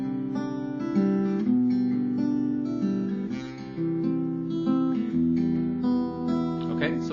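Fingerpicked acoustic guitar in standard tuning playing a song: steady arpeggiated chord patterns with ringing bass notes, close and clear, played alone.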